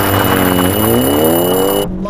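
Small Hyundai launching off the line under launch control in a drag race, its engine roaring loud and close with rising revs, then cutting off abruptly at the end.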